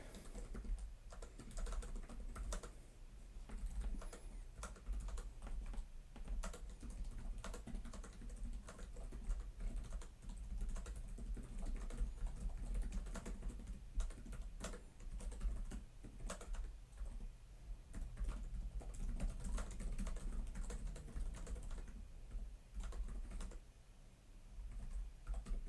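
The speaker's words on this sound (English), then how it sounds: "when you're typing, it just feels way more kind of responsive and just bouncy" Steady, fast typing on the Lenovo Legion 9i laptop keyboard, with close, bouncy key clicks tapping in continuous irregular bursts and no talking.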